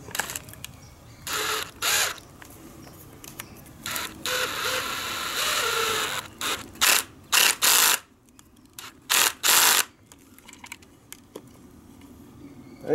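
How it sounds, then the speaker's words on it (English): Sharp, irregular clicks and short ratcheting bursts as a fitting is tightened by hand on a homemade 12V OBD2 power cable, close and fairly quiet, with a few quick clusters of snaps. "Now, just have to tighten this up."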